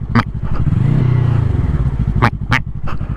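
A 2019 Yamaha R3 sport motorcycle accelerating hard in first gear, its engine note rising loudly and close with sharp clatter and rattling bursts over the droning rev.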